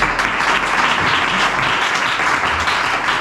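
An audience at a church talent competition applauds a first-prize winner in a Bible quiz with a dense, steady burst of clapping that fills the hall for a few seconds.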